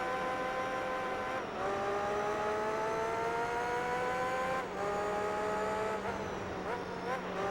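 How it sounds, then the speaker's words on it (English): An F1 race car engine in the video game Gran Turismo 3, a loud, high-pitched continuous whine rising through the gears, with a few sharp drops at upshifts as the car accelerates, near and alone. "I hope you absolutely love the sound of an F1 engine"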